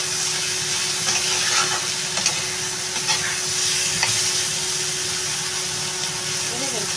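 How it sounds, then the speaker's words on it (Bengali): Water lily stems and shrimp fry in a pan on a gas stove, giving a steady, close sizzle with soft stirring clatter over a continuous background hum. "এখন ভাজা প্রায় হয়ে গেছে"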